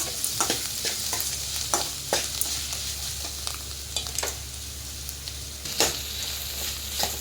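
Tomatoes being stir-fried in a pan for radish chutney, with a steady sizzle beneath repeated scraping and clattering stirs of the spatula, close and moderately loud.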